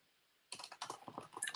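Rapid typing on a computer keyboard starts after a brief quiet moment, with irregular bursts of close, crisp key clicks and no talking.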